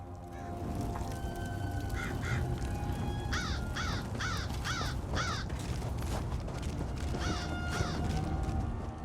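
A crow in The Elder Scrolls Online caws repeatedly in short harsh bursts, first a pair, then a run of five, and later another pair, loud and close over a steady ambient game background, with no speech.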